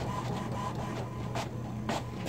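A home printer runs steadily and close by, its low mechanical hum continuous with brief whirring bursts of the print carriage, no voices.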